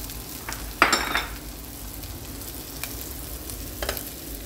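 Rice tipped into a frying pan of fried onions lands with a loud rustling burst, then settles into a soft, steady sizzle with faint scraping stirs, no voices.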